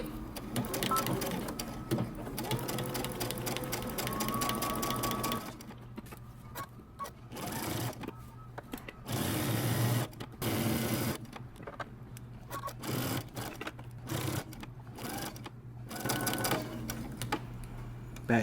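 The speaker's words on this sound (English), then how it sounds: "we're going to stitch 3/8 of an inch all the way around the neckband" Sewing machine stitching a 3/8-inch seam around a men's button-up shirt neckband, running in a steady rapid whir, then in short bursts separated by pauses as the stitching stops and starts.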